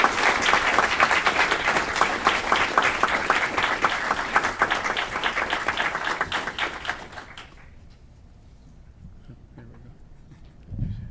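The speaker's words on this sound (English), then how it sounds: "Let's give him a big round of applause for making us proud." A round of applause at a city committee meeting for an honored award recipient: dense, steady clapping for about seven seconds, then it fades out to quiet room tone.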